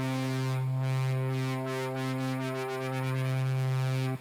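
A sustained software synthesizer note with steady harmonic tones, played live on a keyboard at a loop festival, its timbre shifting and fluttering as the key is pressed harder, continuous and fairly loud with no talking.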